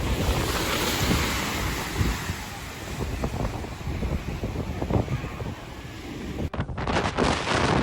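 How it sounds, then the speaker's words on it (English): Massive storm waves surge during Storm Gloria in Majorca, a loud, continuous roar of crashing surf mixed with heavy wind buffeting the microphone, with a sharp cut and renewed rush near the end. "During Storm Gloria, massive waves surged over 3-story buildings in Majorca"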